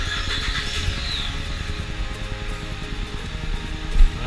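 A Dodge Ram with the 5.7L Hemi V8 idles with a low, steady rumble and a faint mechanical whir, plus a brief knock near the end and no talk.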